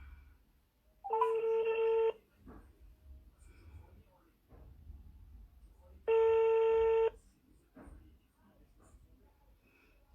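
Two bursts of a telephone ringback or dialing tone, each about a second long, sound amid low background noise and faint voices during a call placed on a mobile phone.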